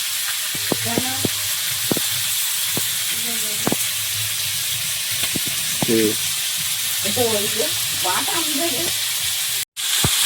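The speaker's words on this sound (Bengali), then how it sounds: "সব মাছগুলো বেশ সুন্দর করে ভেজে উঠিয়ে নিলাম" Fish frying in a pan of hot oil, a steady sizzle running throughout with scattered clinks and a few voices and chirpy sounds in the background, ending with a brief dropout near the close.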